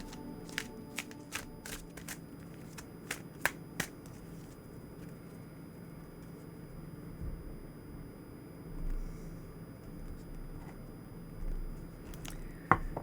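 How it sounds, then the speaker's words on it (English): Tarot cards shuffled in a long, slow, solemn session, with soft sliding and riffling under a steady low hum, broken by sharp crisp snaps and taps early on and near the end; no one speaks. "I do a kind of long and solemn shuffle"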